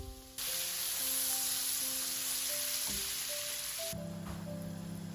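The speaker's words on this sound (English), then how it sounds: "So we're going to add a slice of butter and some chopped onions." Butter and chopped onions fry in leftover ribeye steak juices, with a steady, close hiss that starts abruptly after a brief pause and holds through to the end over faint steady tones.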